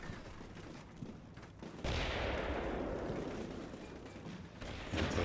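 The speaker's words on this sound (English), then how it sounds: "Our tanks are targeted by gunfire as well as tow missiles." Rumbling bursts of gunfire and heavy blasts roll through a noisy battlefield in the video game Combat Mission Cold War, with tanks under fire, mortars and missiles, a sustained loud barrage in the middle, no voices.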